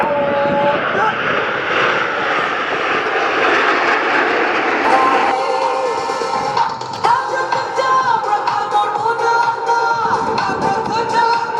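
A Blue Angels Super Hornet jet roars steadily overhead during a barrel roll at an air show, its engine tone shifting partway through as it passes, with an announcer's voice over the loud jet noise.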